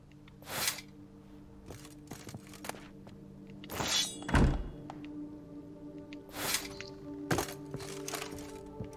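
Weapons set onto a weapon rack in The Witcher 3: Blood and Wine, a series of separate wooden and metal thunks and clacks spaced a second or two apart, with one heavier clattering knock in the middle.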